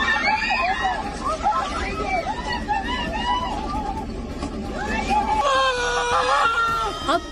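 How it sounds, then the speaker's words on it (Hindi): After an earthquake in Turkey, a crowd of people screams and cries out in a dense, frantic babble, with high wailing voices rising over one another and staying loud throughout. "चीख पुकार मच जाती है।"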